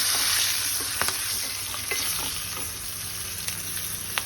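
Mustard seeds and cumin sizzling in hot oil for a pappu dish, a steady close crackle and hiss with occasional sharp pops and faint stirring clicks, no one speaking.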